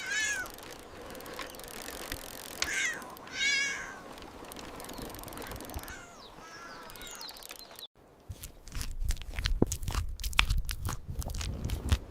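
Kittens meow in a series of high, wavering cries over a busy, noisy background, later joined by crunching and rustling sounds.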